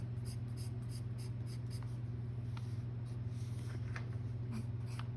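Close, rhythmic scratching of a Kalour portrait colored pencil stroking across paper in short repeated passes, over a steady low hum.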